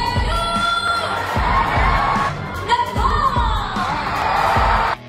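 Pageant audience at the Miss Universe final cheering and whooping for Miss Peru, Camila Escribens, during the swimsuit walk, loud sustained crowd noise with yells over music pulsing underneath.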